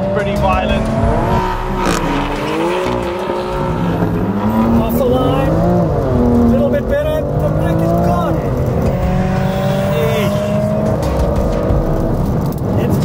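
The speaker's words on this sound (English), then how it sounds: "Monstrous on the quarter mile. I think that was Ash's best run" Loud engines roar close by as a BMW M2 CS and a Mercedes-AMG A45 S accelerate hard over a quarter mile, pitch climbing through gear changes, with people talking over the noise.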